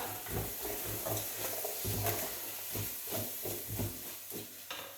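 A utensil stirs carbonade ingredients together in a sizzling pan, giving repeated scraping strokes in an uneven rhythm over a soft frying hiss, close but quiet.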